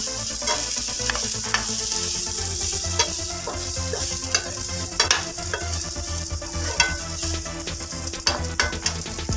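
Coriander leaves are lightly sautéed in a pan, giving a steady soft sizzle with frequent sharp scraping and stirring clicks from a utensil, close and clear with no voices.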